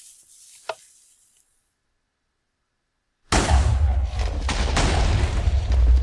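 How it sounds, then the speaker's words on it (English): A TNT explosion set off by a tripwire trap in Minecraft, with a flat, heavy boom that starts abruptly after a short quiet gap and a faint earlier tick, then stays loud and rumbling to the end. "Very distinctive lack of fire in that explosion"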